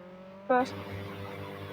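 Engine whir and wind rush from a car flying through the air in the Roblox game Jailbreak, a sudden loud burst then a steady hum, with a person talking over it.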